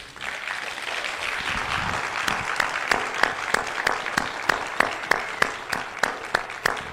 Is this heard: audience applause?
yes